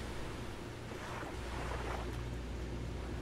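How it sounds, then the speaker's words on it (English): Ocean surf in the Stranded Deep survival game, a steady wash of waves and breeze rolling continuously at moderate level with no voices. "just the sounds of the ocean"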